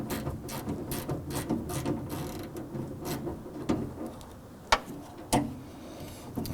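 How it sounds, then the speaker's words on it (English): A stubby 1/4 inch ratchet with a 10mm socket loosens a bolt on the rear door of a 2005-2009 Subaru Legacy, giving rapid close pawl clicks in short bursts, then two sharper snaps near the end. "use our 10mm socket on our stubby 1/4 inch ratchet"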